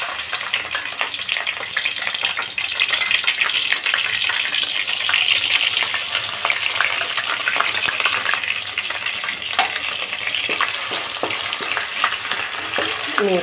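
Ginger paste fries in oil over a low flame with a loud, dense, continuous sizzle and crackle, close up, with occasional faint clicks of a utensil against the pan and no voices.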